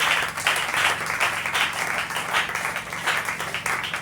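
A church congregation applauding, a dense, continuous wash of many hands clapping at close to moderate distance, steady in loudness throughout with a faint low hum underneath.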